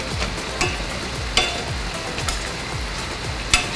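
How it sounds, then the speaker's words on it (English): Onions caramelizing alongside pork skin frying in an adobo pan give a steady close sizzle, broken by a few sharp clinks and scrapes of stirring. "Together with the onions, you'll find that the onions is caramelizing."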